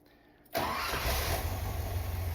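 A 1979 Corvette engine, just after a distributor adjustment, cranks briefly and catches half a second in, then settles into a loud, rough, rumbling idle with no talking over it.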